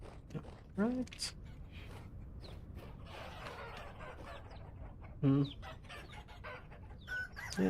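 Chickens in a Vintage Story game world let out a few short clucks and squawks, scattered and separated by gaps over quiet background noise, while someone talks at points.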